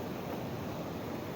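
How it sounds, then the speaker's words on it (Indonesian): Ocean surf rolls in with the rising tide at Simeulue, a soft, steady broadband wash of waves with some wind, fairly quiet and without voices. "ini ombak lagi naik pasang"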